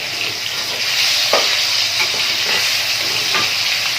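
Garlic and fresh bird's eye chilies fry in hot oil in a wok, giving a loud, dense, continuous hiss close up, with a few faint scrapes of stirring and no talk.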